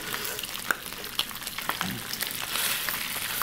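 Pork shoulder fries in an iron skillet with a steady crackling sizzle, broken by a few sharper pops and scrapes as the meat is stirred and flipped.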